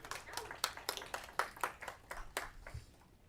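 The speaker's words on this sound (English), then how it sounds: "I'm going to respectfully ask you to not clap after people." An audience at a Eureka city council meeting gives a short round of scattered clapping from a small crowd, brisk and moderately distant, fading out after about three seconds.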